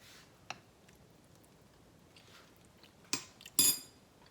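A metal spoon clinks a few times against a cooking pot or dish, in sparse, faint, isolated taps with a slightly louder scrape and clink near the end in a quiet kitchen.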